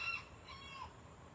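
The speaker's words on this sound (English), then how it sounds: "My chickens are just having it tonight." Backyard chickens cluck faintly at night with a distant rooster call, all quiet and low in the background.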